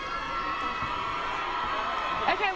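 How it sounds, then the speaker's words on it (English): KCL fans at a Varsity 2023 women's football match give faint, distant cheers and scattered shouts, a steady crowd roar with a few higher whoops near the end. "Lots of cheering from the KCL fans there."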